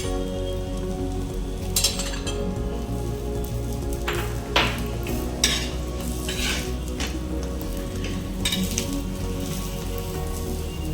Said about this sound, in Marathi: आपण याला तुपामध्ये पण थोडंसं भाजून घेऊया तूप लावून.